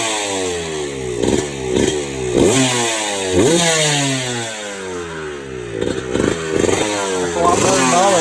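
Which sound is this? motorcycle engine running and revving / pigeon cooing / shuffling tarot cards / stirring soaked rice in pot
motorcycle engine running and revving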